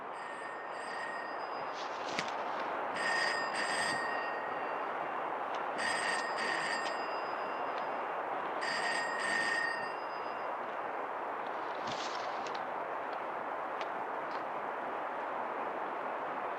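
An old telephone rings in paired bursts, about four rings spaced a few seconds apart, heard over steady background hiss of heavy rain in a 1993 Bengali film scene.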